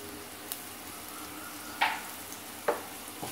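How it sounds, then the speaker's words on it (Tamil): Coarsely ground spice paste for a yam and garlic curry frying in oil, a steady soft sizzle with two or three brief scraping stirs standing out, fairly close and quiet, no talking. "இதே நல்லா அந்த எண்ணெயிலேயே கொஞ்சம் பிரட்டிடுங்க"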